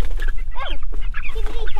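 Meat chickens cluck and squawk close by inside a chicken tractor, in loud, uneven bursts of short calls with no talking.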